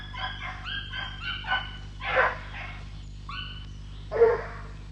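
A hunting dog in boar training gives a series of short high yips and whimpers, then louder barks around the middle and end, fairly close against a low steady background hum.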